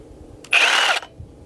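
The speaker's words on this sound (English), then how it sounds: "I'm gonna do the obligatory power tool start" A Sawzall reciprocating saw revs up in one short burst of about half a second, loud and close, then cuts off, with quiet surroundings before and after.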